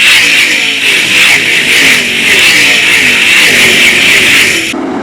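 410 sprint cars roar together at Attica Raceway Park as the field accelerates on a single-file restart, a loud, dense, sustained engine blare that cuts off abruptly near the end.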